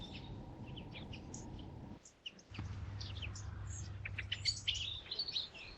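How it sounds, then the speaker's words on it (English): Small garden birds such as tits, finches and buntings chirping and tweeting on a UK smallholding by a wildlife pond, with scattered quick high calls over a low steady rumble that briefly drops out, growing busier toward the end. "Most species here are tits, finches or buntings."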